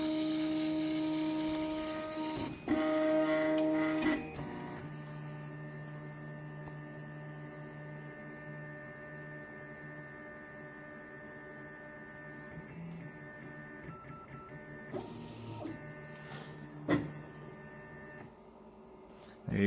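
A Prusa i3 MK2 3D printer runs mesh bed leveling, giving a steady electrical hum with motor whines and short stepping movements, a few clicks and a brief beep, close and fairly quiet.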